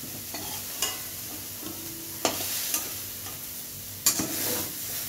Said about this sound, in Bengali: আমার এটা একটু ভাজা ভাজা হবে